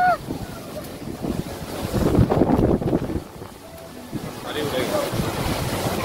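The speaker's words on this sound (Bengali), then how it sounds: "প্রচুর ঝড় শুরু হয়ে গেছে।" Strong storm wind gusting across an open outdoor spot, roaring and buffeting the microphone in broad rushing surges, loudest mid-way, with faint voices underneath.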